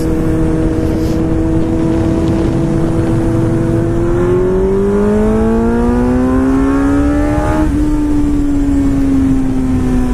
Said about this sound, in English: Okay, now the Ford's speeding up.